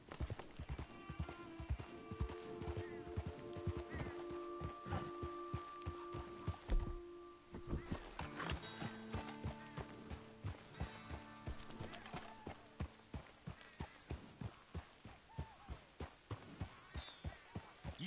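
Horse hooves clip-clopping in Red Dead Redemption II, a steady run of regular hoof beats close by, heard beneath a low hum with voices talking over them.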